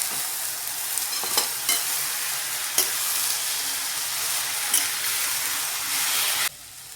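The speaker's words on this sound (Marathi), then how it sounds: "आता मिरच्या आपल्या परतून झाल्या की आपल्याला टाकून घ्यायचा आहे बटाट्याचा किस" Grated potato sizzles loudly in hot oil with fried chilies in a pan over medium gas, a steady broadband hiss broken by a few stirring clicks, close and continuous before cutting off near the end.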